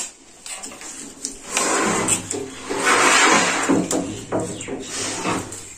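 A wooden drawer slides open and shut with scraping and knocking, fairly close, amid a few clunks and rustling movement.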